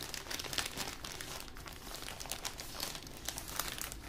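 A plastic package of stickers is torn open and handled up close, giving continuous crisp crinkling and rustling with small tearing accents for about four seconds and no talk.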